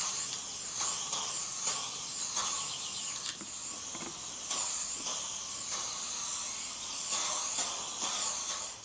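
PlastiKote primer spray paint hissing steadily from an aerosol can onto an IKEA KNAGGLIG wooden crate, a close, continuous spray with brief pauses between passes.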